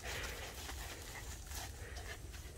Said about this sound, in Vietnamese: Mang chó là thấy chuột nó mê vậy đó.